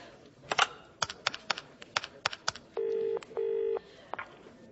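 A phone call is placed in a comedy sketch: a run of quick, sharp button presses, then two sustained dial tones of even length and a final press, close and clear with no voices.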